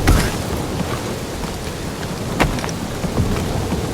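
Rain in the video game Guardians of the Galaxy hisses steadily and densely throughout, with scattered sharper drop ticks and a soft low rumble underneath.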